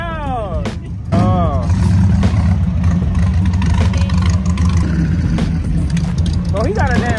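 A car engine rumbles steadily and loud up close at a large Cars & Coffee meet in Texas, rising as it revs, with voices talking and shouting over it.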